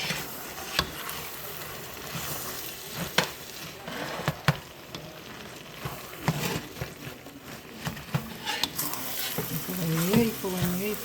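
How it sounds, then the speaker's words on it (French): Rice for Cantonese fried rice sizzles in a hot pan as it is stirred continuously, with irregular scraping and clinking strokes up close. A voice is briefly audible toward the end. "Voilà, nous ajoutons le riz. Et il faut remuer au fur et à mesure."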